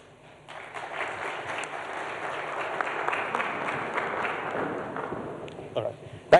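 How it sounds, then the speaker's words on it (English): An audience at a Ghanaian news event gives a round of applause for a speaker, a steady crowd clapping that swells for several seconds and then tapers, with a few sharp claps and a brief voice at the end. "A round of applause"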